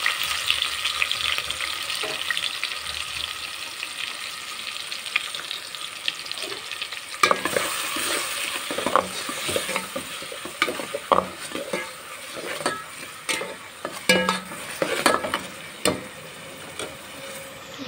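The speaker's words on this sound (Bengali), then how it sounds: "এখন তেল গরম হয়ে গেছে, আমি পেঁয়াজগুলো দিয়ে দিচ্ছি। সাথে রসুন কুচি" Onions and chopped garlic frying in hot oil give a steady, close sizzle, with sharper scraping and clattering stir strokes growing more frequent in the second half.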